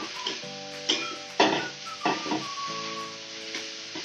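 Cauliflower fries in a pan while being stirred, a soft sizzle broken by several sharp clanks and scrapes of a utensil against the pan at an uneven pace.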